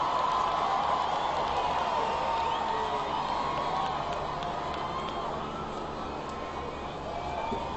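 A huge crowd outside the royal wedding balcony in London cheering the couple's kiss, a continuous, distant roar of many voices that holds steady and eases slightly toward the end.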